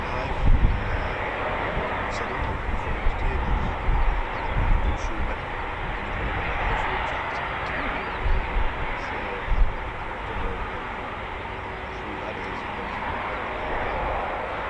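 An RAF Eurofighter Typhoon jet flies a practice display over RAF Coningsby under low cloud, producing a loud, sustained broadband roar that stays steady for the whole stretch, with slight surges.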